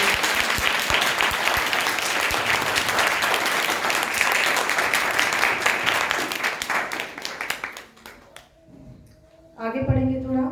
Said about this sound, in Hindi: एक जोरदार ताली हो जाएगी यीशु के लिए।